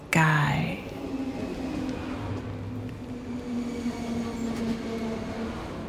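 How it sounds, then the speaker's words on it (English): A train rounds a bend and eases toward a station platform, a steady low rolling rumble with a brief tonal sound at the start and a calm voice speaking over it. "The headlamp of the train comes around the bend, warm and round against the pale sky."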